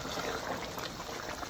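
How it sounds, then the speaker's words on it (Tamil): Water is poured into a pan of mutton salna at a Madurai roadside eatery, a brief, close, bubbling, splashing wash of liquid that stays fairly quiet. "ஸோ எனக்கு கொஞ்சம் தண்ணி கொஞ்சம் விட போட்டேன்"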